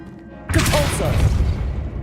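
Depulso spell cast in the Hogwarts Legacy video game, a loud sudden blast that starts about halfway in and keeps rumbling with crackling debris.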